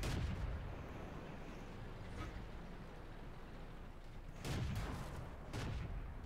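Tank guns boom in a World of Tanks battle, one heavy blast landing close around the middle and another shortly after, with a low rumbling background of engines and distant fire throughout.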